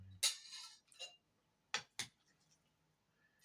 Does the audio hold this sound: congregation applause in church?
no